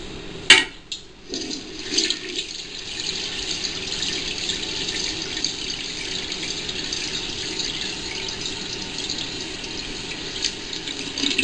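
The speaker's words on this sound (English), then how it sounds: "both those toilets are now flushing correctly" Two residential toilets flushing after a repair, a steady rush of water and refill that runs the whole stretch after a few knocks and clunks at the start, with no talking.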